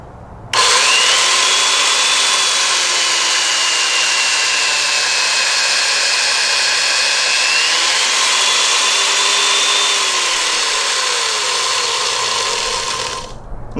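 A Makita 7100B chain mortiser plunge-cuts into timber for timber framing, a loud, steady high motor whine with chain chatter running for about thirteen seconds, pitch sagging slightly as the chain bites, then winding down.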